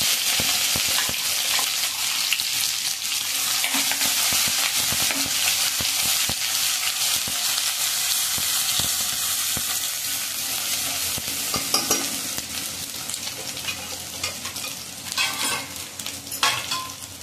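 A ground paste of onion, coconut and ginger fries with garlic and curry leaves over a low flame. Loud continuous sizzling runs throughout, with frequent spoon stirs and scrapes building toward the end, and nobody talks.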